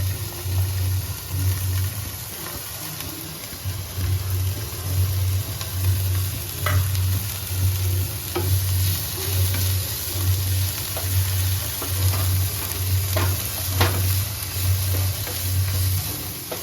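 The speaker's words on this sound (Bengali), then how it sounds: "পেঁয়াজটা আমার স্যালো ফ্রাই হয়ে গেল।" Chopped onion shallow-fries in oil in a pan with a steady, loud sizzle. A low rhythmic hum pulses evenly underneath, and faint clinks from stirring come through now and then.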